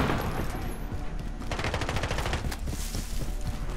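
Gunfire from Call of Duty: Modern Warfare in a headquarters match, with rapid shots and bursts crackling throughout alongside dense in-game noise, fairly loud and continuous.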